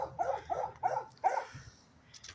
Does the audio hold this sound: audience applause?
no